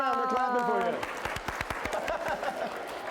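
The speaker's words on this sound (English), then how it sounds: "They're clapping for you." An audience claps for a student at a classroom recycling game. A voice speaks at the start, then scattered sharp hand claps break out, close and uneven, with light chatter mixed in.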